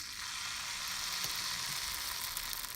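Appam batter sizzles in a hot pan as a soft, even hiss that stays faint and constant throughout.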